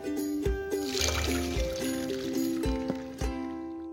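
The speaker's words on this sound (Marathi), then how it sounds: "याच्यावर आता डाळ ओतूया" Cooked dal for puran poli pours into a strainer set over a clean pot, a steady trickling, splashing flow with a few soft thuds, close and moderately loud.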